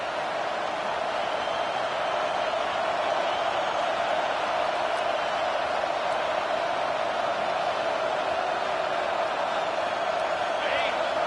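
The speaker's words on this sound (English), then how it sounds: "Decibels rising as the crowd gets behind this defense on 3rd down." A large football stadium crowd at a UCLA vs Wisconsin college game roars as the defense faces third down, a loud, continuous wash of cheering that holds steady from start to finish.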